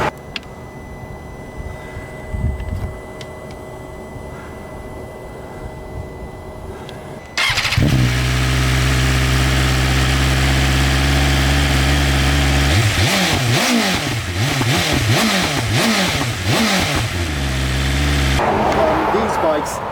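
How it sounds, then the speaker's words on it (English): A BMW S1000RR motorcycle fitted with an Akrapovic exhaust starts up after a quiet stretch, then idles loudly and close before revving in repeated rising and falling blips, with a person talking early on. "the Akrapovic exhaust sounds absolutely incredible"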